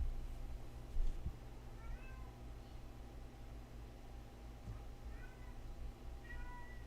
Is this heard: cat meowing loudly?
yes